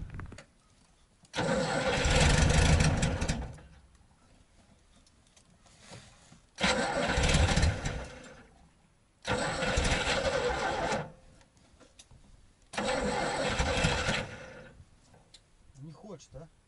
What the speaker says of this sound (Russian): Аккум зарядится и попробуем запуститься.